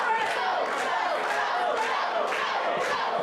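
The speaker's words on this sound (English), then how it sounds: "must be a crawl under the skin of Kavero to hear this crowd that once cheered for him, cheering for Big Guns Joe." A wrestling crowd at the MEW Northern Bash 2019 show roars and chants in a dense, continuous wall of cheering, with rhythmic shouted bursts rising above the din.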